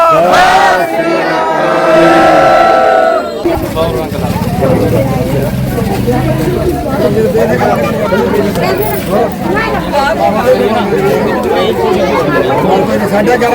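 A lone voice shouts the Sikh jaikara call, then a large crowd roars back in loud, sustained unison at a village gathering in Chhajli, Punjab, held ahead of panch and sarpanch elections.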